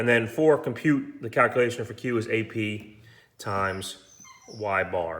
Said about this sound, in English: that's my dog crying